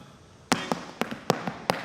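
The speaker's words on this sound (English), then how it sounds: "we're going to hop off the heel again." Sharp heel drops and hopping taps from Irish dance shoes strike a hard floor: a loud bang followed by a quicker pattern of four to five crisp, close impacts, with a brief uneven rhythm between them.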